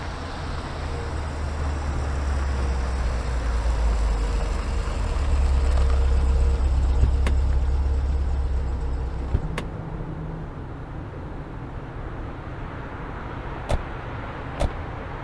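A car moves through traffic near Bagru, giving a steady rumble of engine and road noise that eases after several seconds, with a few faint clicks and no speech.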